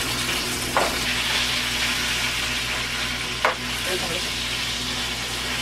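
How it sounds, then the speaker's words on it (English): Rice simmering in a pot on the stove gives a steady, even hiss of bubbling water, broken by two faint clicks. "allow it to simmer and do its thing"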